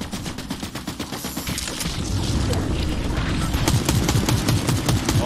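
Rapid automatic gunfire from the Fortnite video game rattles in a fast, steady stream of loud shots, starting as distinct pops and building into a dense, continuous barrage.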